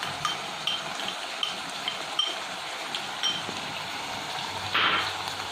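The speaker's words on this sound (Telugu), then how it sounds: "ఇప్పుడు ఒక 2 teaspoons అల్లం పేస్ట్ వేసుకోవాలి." Ginger paste fries in a pan for aloo keema, a soft steady sizzle broken by a few light clinks and scrapes of stirring.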